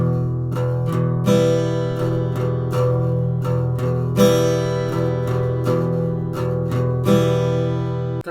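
Steel-string acoustic guitar strummed in a galloping triple-stroke pattern with accented beats, as used for a well-known song. Chords ring close and steady for about eight seconds, with a regular rhythm and louder accented strokes recurring throughout, no voice.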